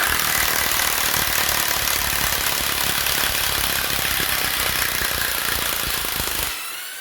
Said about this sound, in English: this is an impact wrench. It will spin slower than an impact driver.